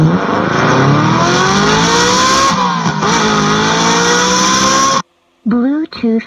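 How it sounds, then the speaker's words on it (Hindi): A loud, close heavy motorcycle engine drone rises and falls as if revving, played through a Bluetooth musical silencer speaker, then cuts out abruptly before a few short bursts of sound. "और ये हैवी बाइक का साउंड है"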